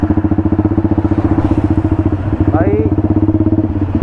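A Yamaha R15 motorcycle rides along a road with a steady, pulsing engine drone throughout, loud and close, while someone talks over it.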